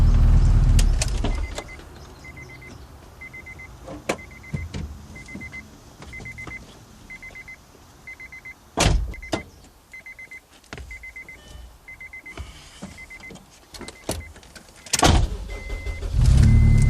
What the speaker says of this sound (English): Roll the windows up here.